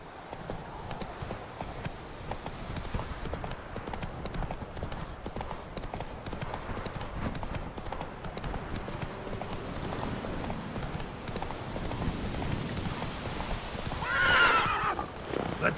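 A horse in The Witcher 3 gallops with a steady, continuous clip-clop of hooves and gives a neigh near the end, all at a constant distance.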